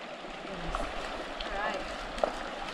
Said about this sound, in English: Last creek crossing of the 3-day adventure, West Tensleep Creek.